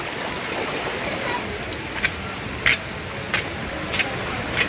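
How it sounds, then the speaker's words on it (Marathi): Water from a large spring running down a forested hillside, a continuous near rushing stream with a few brief sharper splashes or clicks, no talk. "हा वरतून असा पाणी येतोय वरती झराच आहे मोठा तिथूनच हा पाणी येतोय"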